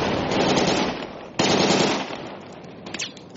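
Automatic machine gun fire in a multiplayer shooter game, loud and continuous, cut by a sharp fresh burst midway before trailing off.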